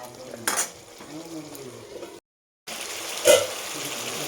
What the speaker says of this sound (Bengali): আমি বেশ ভালোভাবে একটু নাড়াচাড়া করে নেব।